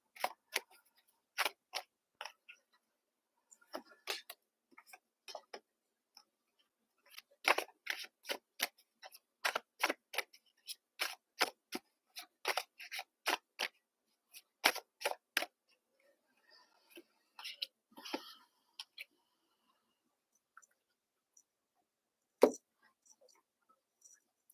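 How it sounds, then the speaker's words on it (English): Tarot cards are laid down one by one on a table, giving sharp, close, quiet taps and slaps in irregular bursts separated by short pauses, with no talking. "I'm just still putting down cards."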